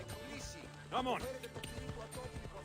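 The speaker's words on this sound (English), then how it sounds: "Conveniently, we can call our horse." A horse in Assassin's Creed Odyssey neighs briefly amid clip-clop hoofbeats, heard under a man's ongoing speech.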